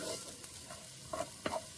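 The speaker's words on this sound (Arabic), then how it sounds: "نحمس البصل الى ان يذبل." Onions frying in a pan for a turmeric-and-turnip kibbeh dish, a soft, steady sizzle with a few brief louder stirring scrapes near the end, fairly close and without speech.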